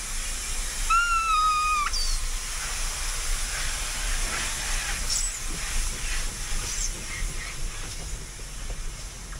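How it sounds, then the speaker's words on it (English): Heritage steam train engine near Keystone and Hill City, giving a loud continuous steam hiss and rumble with a short whistle early on, then steady running noise. "What's cool about the engine is they're always pulling the train."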